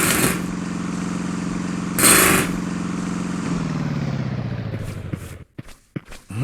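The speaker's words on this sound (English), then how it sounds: "It was the compressor that powered the pneumatic drill." Air compressor driving a pneumatic drill in the Broken Sword 3 video game, a steady loud mechanical drone with a brief louder burst, then winding down into scattered clanks.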